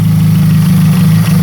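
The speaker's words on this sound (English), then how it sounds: "once it warms up, the idle picks up and it smooths out like a lot" Steady, loud, low idle of a Toyota AE86 engine shortly after a cold start, running continuously close by with an even rumble and no talk.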